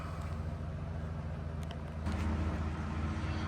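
A Plymouth Duster engine idles after carburetor tuning, a steady low rumble with an even throb that grows slightly louder partway through.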